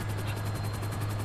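A helicopter in GTA V Online drones steadily with a low rotor hum and a rapid rhythmic blade chop, loud and close, continuous without any voices.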